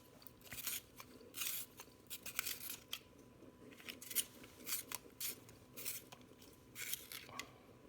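A coloured pencil is turned in a small hand sharpener, making a series of close, crisp scraping and crunching bursts in an irregular rhythm. The sound is quiet with no voices over it.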